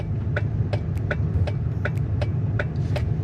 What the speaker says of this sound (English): can you hear the blinker?